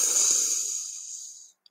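A slow, deep breath drawn in through the mouth during a guided belly-breathing exercise, a soft breathy rush that fades gradually into silence, close and alone.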